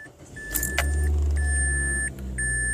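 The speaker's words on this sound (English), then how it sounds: "The first thing we need to do is start the car" 2002 Mazda Protege engine cranking and catching, a loud low roar settling into a steady idle, with a repeating chime beeping over it from the dashboard.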